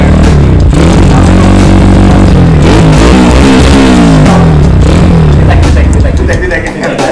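Yamaha Scorpio motorcycle fitted with an NRP aftermarket exhaust, revving loudly and continuously up close, with rising and falling engine pitch throughout.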